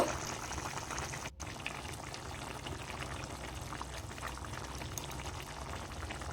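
An egg and cauliflower curry boils in a pot, giving a continuous close bubbling and gurgling hiss with a brief break near the start and no talking.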